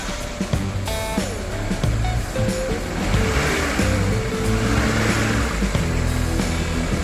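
A Honda Civic engine with newly replaced spark plug cables cranks and starts, then settles into a steady, close idle rumble with a brief whine at ignition.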